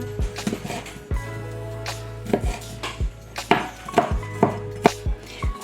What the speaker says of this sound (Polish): Czosnek kroimy w dość drobną kostkę.